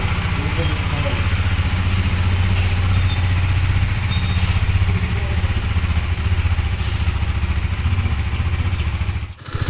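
A KTM Duke 390 BS6 motorcycle engine runs steadily up close, a loud, continuous idle-like rumble with a faint clatter throughout, briefly dipping near the end.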